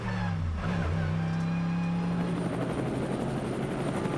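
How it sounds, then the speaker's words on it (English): A GT race car rolling down the pit road at the Nürburgring during a 24-hour race, a steady engine drone with a low tone that falls and then shifts, continuous and fairly close, with no talk. "Maro Engel heading down the pit road"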